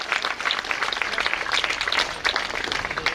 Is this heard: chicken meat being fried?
no